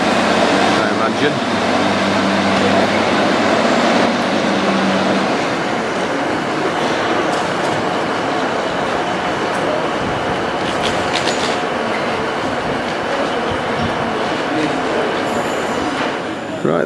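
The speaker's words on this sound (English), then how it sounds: "Right, this is our next train now for Northampton." A train bound for Northampton pulls into a station, giving a steady broadband rumble and rolling hum with a low drone early on and scattered metallic clatter, loud and close throughout.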